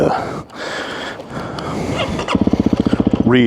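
A Honda CRF300L dirt bike fitted with a Yoshimura full exhaust gives a brief, loud, pulsing putter near the end, following breathy rustling and a little voice up close.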